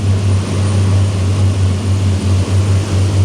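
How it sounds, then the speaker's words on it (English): Powerful engines of a Safehaven Marine Voyager T2000 boat with surface drives running at speed, a steady loud low drone with strong rumbling hum throughout and no talk. "So just the noise of those engines, the amount of power."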